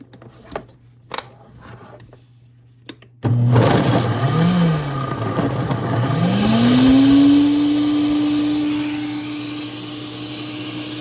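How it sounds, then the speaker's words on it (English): A blender motor kicks on after a few soft clicks and knocks, roaring steadily and shifting pitch as it spins up and settles into a loud whir. "We're going to plug the blender up."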